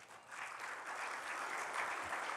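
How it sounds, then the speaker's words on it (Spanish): A church congregation claps together after a sermon on forgiveness, a dense, fairly quiet wash of applause that swells slightly and holds steady. "¿Le damos un aplauso a Cristo?"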